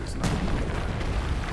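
Fire spell blast in the fantasy game Lichdom: Battlemage, a dense, loud roaring burst of flame that rumbles continuously without pause.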